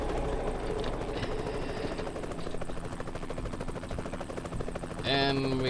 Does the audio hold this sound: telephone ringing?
no